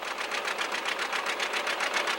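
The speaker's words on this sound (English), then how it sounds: "The last of John Deere's long line of two-cylinder tractors" A John Deere 830 two-cylinder diesel tractor engine runs steadily and close by, its pulsing beat loud and even throughout with no voices.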